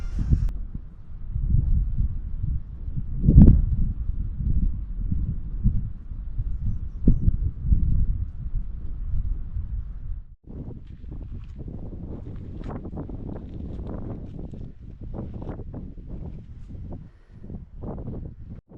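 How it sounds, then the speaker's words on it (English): Gusty wind buffets the microphone with low rumbling on a mountain hike at Stac Pollaidh, then gives way to a softer, hissing wash of running water outdoors. "A little bit of white noise, bit of water."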